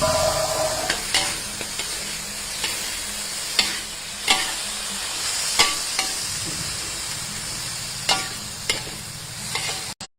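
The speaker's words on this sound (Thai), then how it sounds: "เราจะมาผัดมะเขือยาวกันนะคะ" Blanched long eggplant being stir-fried in a pan, a soft continuous sizzle broken by regular sharp spatula scrapes and knocks against the pan, close and alone with no voices.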